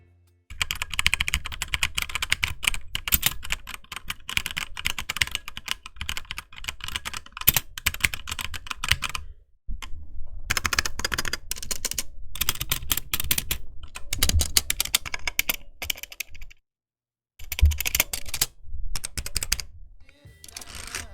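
Rapid clacking of a HyperX Alloy Origins Core mechanical keyboard as someone types in steady bursts, with a few brief pauses between runs of keystrokes.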